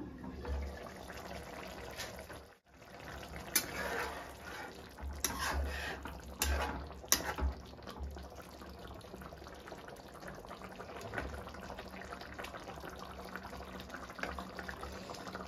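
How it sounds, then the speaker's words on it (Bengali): Jackfruit curry broth bubbles in a cooking pot, giving a soft continuous liquid simmer with a few louder gurgling bursts and clinks near the middle, fairly quiet and close, with no speech. "দেখো ঝোলটা ফুটছে"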